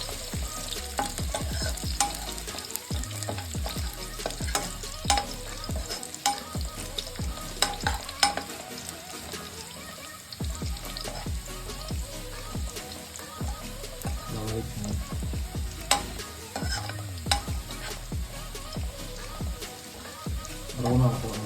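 Garlic sautéing in a pan for prawn thokku, a continuous sizzle and frying crackle with frequent scraping stirs throughout, fairly close and steady, with occasional speech underneath.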